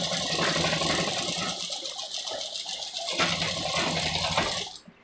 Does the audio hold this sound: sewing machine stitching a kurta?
yes